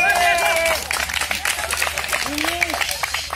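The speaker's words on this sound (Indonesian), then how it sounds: "Beri tepuk tangan dulu." A small group at a Jakarta paintball venue claps hands for a few seconds, brisk uneven clapping near the listener while a voice speaks over the start and murmurs continue beneath.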